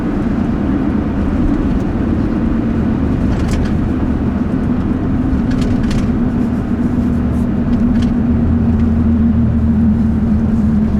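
A 6.7 diesel street truck doing a four-wheel-drive burnout, a loud, steady low engine drone with a hesitating, roaring tone throughout and faint higher hiss bursts from the tyres.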